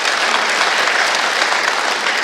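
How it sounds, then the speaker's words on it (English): Conference audience clapping at the opening session of a surgical hernia meeting, a loud, dense, continuous applause from a full room with no voices above it. "yes, you can clap."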